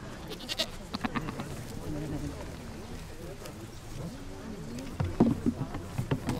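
A pedigree breeding billy goat of the Rudy line bleats at a farm in harmonic, wavering calls, with other goats and buzzing insects around and people talking over much of it.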